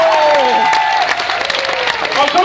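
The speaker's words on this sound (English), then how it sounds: "you guys can clap louder than that" Audience at a small-town talent show applauds loudly and steadily, with cheering and a voice over the clapping.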